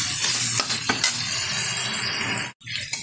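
Chicken pieces cooked down with chili powder and spices in a pan for chicken kosha, with a steady close sizzle and scraping stirs that carry on throughout, briefly cutting out near the end.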